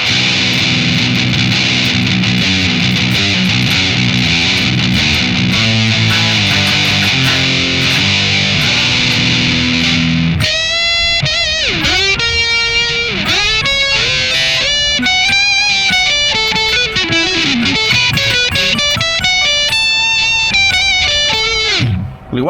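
Electric guitar plays through a Boss GX-100 amp with an external effects pedal in the send/return loop, first a dense gritty wash, then a distorted tone with ringing sustained notes and bends, loud and steady throughout.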